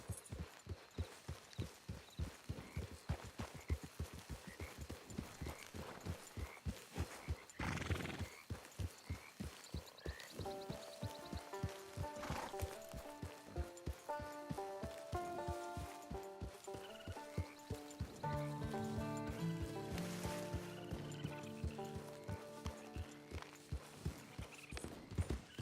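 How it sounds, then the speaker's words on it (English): Steady, evenly paced hoofbeats from a horse trotting in the video game Red Dead Redemption 2, soft and continuous throughout, with a faint whinny and a gentle musical score rising under the hooves partway through. "Get your horse."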